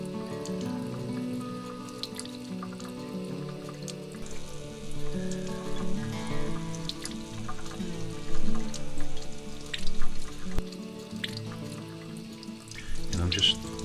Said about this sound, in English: Okay, so we're going to gently rinse the salt off.